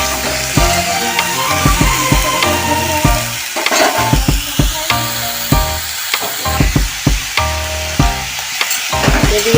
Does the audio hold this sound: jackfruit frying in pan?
yes